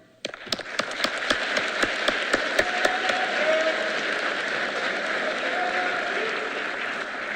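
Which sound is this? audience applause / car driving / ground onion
audience applause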